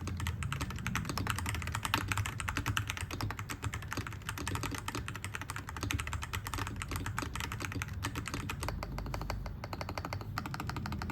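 Continuous clacky typing on a Melgeek Made68 Pro+ magnetic keyboard with a full polycarbonate build, dense rapid keystrokes at a steady pace, close-up and moderately quiet, with no voices.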